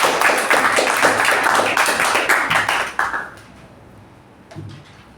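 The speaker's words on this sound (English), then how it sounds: "So let's give her a thunderous round." Audience applause at a club meeting: dense, fairly loud clapping from a roomful of people sustained for about three seconds, then quickly dying away to a couple of faint scattered claps.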